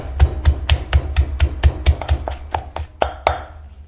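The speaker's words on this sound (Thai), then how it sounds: "ทีนี้ใส่พริกแดงจินดาลงไป 5 เม็ด ตามด้วยกะปิครับ 1 ช้อนโต๊ะ โขลกให้เข้ากัน" A stone mortar and pestle pounding red chilies and shrimp paste, a steady run of about fifteen sharp, close thuds at an even pace that grow slightly softer and looser toward the end.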